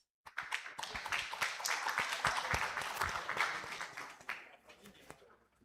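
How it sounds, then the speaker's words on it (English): An audience at a brain science conference panel session claps in sustained applause: dense, fairly close clapping that starts abruptly, holds for several seconds, then thins out and fades. "A round of applause."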